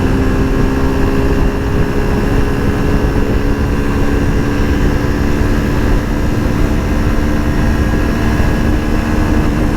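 A Suzuki Gixxer SF 150 motorcycle engine drones steadily under hard acceleration, a loud continuous hum with wind rush and no break between gears over about ten seconds.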